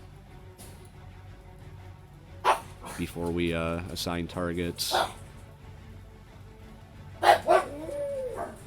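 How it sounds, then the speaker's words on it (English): Dogs bark in the background of a room while someone narrates a naval war game, a few short barks and yips heard under and after his talk. "Let me shut these dogs up."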